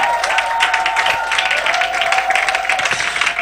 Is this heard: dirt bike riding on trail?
no